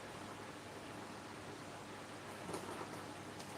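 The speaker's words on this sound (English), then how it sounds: "it is pouring down rain here right now" A steady hiss of heavy rain pours down continuously, soft and distant, with a few faint patters standing out near the end.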